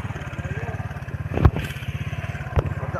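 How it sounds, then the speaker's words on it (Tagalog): A motorcycle tricycle's engine chugs in a rapid, even putter nearby, with two sharp rattling clunks along the way. "Tricycle."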